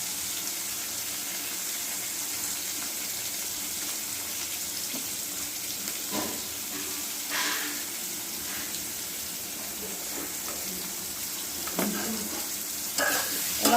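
Potato pieces fry in a pan with salt and turmeric, making a steady, even sizzling hiss throughout, with a few soft clinks and stirring scrapes near the end.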